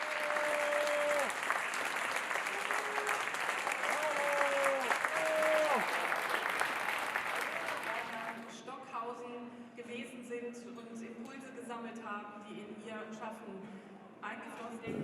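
Loud, sustained applause from an opera audience filling a hall at the end of a performance, steady dense clapping that thins toward the end, with a few voices and brief sung or spoken tones mixed in.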